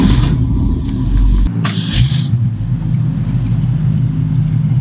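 A 1966 Ford Mustang 289 V8 convertible cranks and catches, then settles into a loud, steady, rumbling idle heard up close with no voices.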